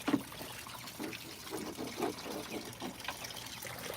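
Water spraying from a garden hose to wash down a chicken coop floor, an uneven splashing and trickling that pulses as the stream is pushed across the surface, fairly quiet and with no talking.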